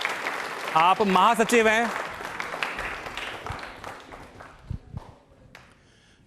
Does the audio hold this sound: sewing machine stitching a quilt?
no